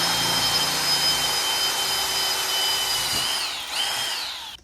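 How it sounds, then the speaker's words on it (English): A power drill bores a hole in a small metal bracket during a catch can install on a 2018 Ford F150 3.5 EcoBoost, a close, steady high whine that dips as the bit bites, then winds down. "Now I gotta drill a hole in it right there."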